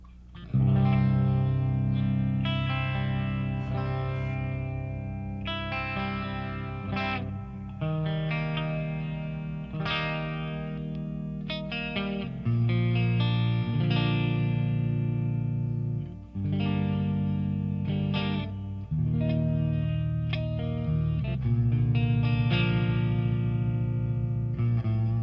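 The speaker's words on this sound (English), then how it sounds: "this is a Fender 68 Custom Deluxe Reverb. So let's go through some clean tones for you." Clean electric guitar tones through a Fender 68 Custom Deluxe Reverb amp, a series of ringing chords and single notes with rich sustain and reverb, played alone without talk.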